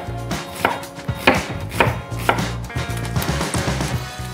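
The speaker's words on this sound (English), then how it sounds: "Chop the onions as finely as you can." A knife chops onions finely on a board, with a series of crisp, fairly regular thuds close by in a quiet kitchen, with no talk.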